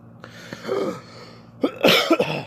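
A man coughs and clears his throat close to the mic, a couple of short rough coughs followed by a louder, harsher burst of hacking and throat clearing.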